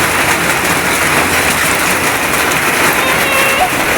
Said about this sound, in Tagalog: Andito na yung ulan mga guys